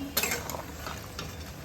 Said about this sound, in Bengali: এই যে মাংসটাকে একটুখানি নাড়িয়ে নিই,